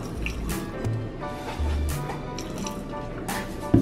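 Hot cocoa being poured out of a cup, a steady liquid stream with dripping and splashing that runs close and continuous for a few seconds.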